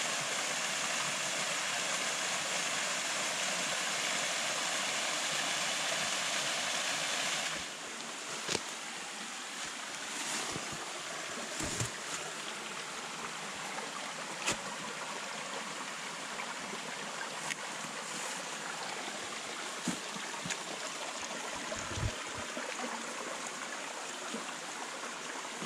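Steady, soft rush of water flowing down a sluice and over a small waterfall in a wooded Ozark creek setting, continuous and distant-sounding with occasional faint clicks and knocks over the constant wash.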